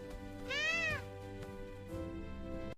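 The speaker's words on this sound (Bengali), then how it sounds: "এক ছিল মিউ মিউ, খুব দুষ্টু বেড়াল ছানা" A cartoon kitten gives a clear, close meow with a rising-falling tone, followed by a softer, shorter second meow over a steady background tone.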